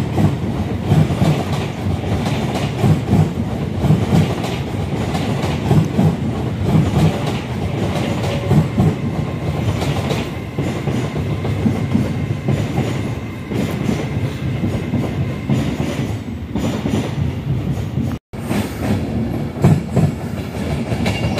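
An Avanti West Coast Class 390 express passenger train passes at speed with a loud, sustained roar and rhythmic clickety-clack of wheels over rail joints, close by and with no talk.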